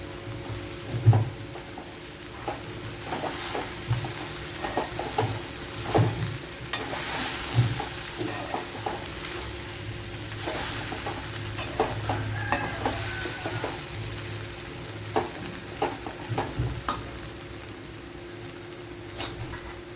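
A spoon scrapes and stirs a tapioca stir-fry (kappa ularthiyathu) with fried onions in a pan, giving irregular clinks and scrapes over a soft, steady sizzle, fairly close and with no talking.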